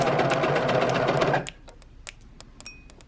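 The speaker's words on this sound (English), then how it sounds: "the sewing machine to sew my shoulders" A sewing machine stitches the shoulder seams of a T-shirt, its rapid, even whirring loud and close for about a second and a half before stopping, then a few light clicks and taps of handling.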